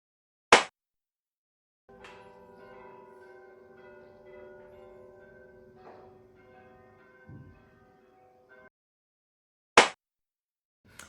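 A church bell rings in Miranda do Douro, a sustained resonant tolling that hums and decays over several seconds at moderate distance, bracketed by sharp loud clicks at start and end.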